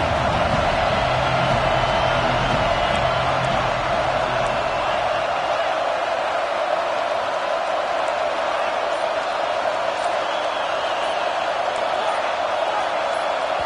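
Stadium crowd at a college football game, a steady loud roar that washes continuously over the field noise, with a commentator talking over it.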